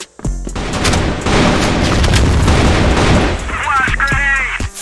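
Gunfire and booming blasts in the CrossFire video game, a dense loud burst of rapid shots and explosions filling most of the clip, with faint voices underneath.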